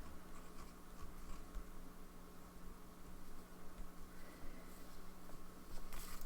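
A fountain pen scratches softly across paper in faint, continuous strokes, quiet and close, with no talking.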